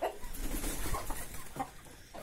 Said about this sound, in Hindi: तो ये है कड़कनाथ की मुर्गी, आप देखिए काफी अच्छे बड़े बड़े हो गए